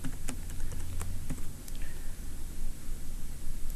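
Fingers type a password on a computer keyboard, a quick run of light, close key taps in an irregular rhythm over a low background hum.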